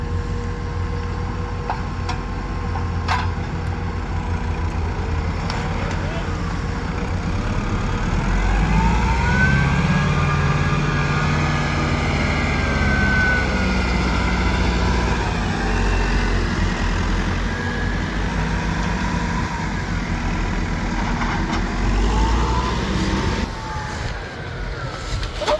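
Tractor engine running steadily while loading earlage on a farm, a continuous loud low rumble with shifting pitch throughout, close by, with no one talking.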